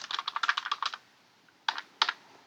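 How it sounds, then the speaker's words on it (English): Quick close typing on a computer keyboard: a rapid burst of key clicks for about a second, a pause, then two short clusters of taps. "we're going to just type Skittles"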